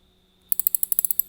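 A 2500-size fishing reel's drag clicks in a quick, even run of about a dozen sharp ratcheting ticks, close and crisp, starting after a brief quiet pause with no voices.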